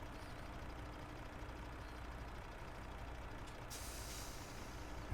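In Farming Simulator 17, the rear of an autoload transport truck moves with a low mechanical rumble and hiss, a steady engine-like drone that shifts partway through, quiet and with no speech.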